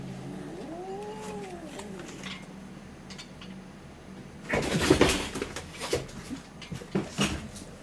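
Two housecats squabbling indoors: a rising-and-falling meow first, then a burst of harsh caterwauling and hissing yowls with sharp bumps, growing louder toward the end.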